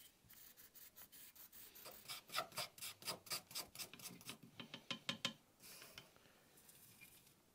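Charcoal is wiped and sanded off the grooved surface of a wooden gunstock war club, in a rhythmic series of quick rasping strokes that speed up, then trail off into softer rubbing.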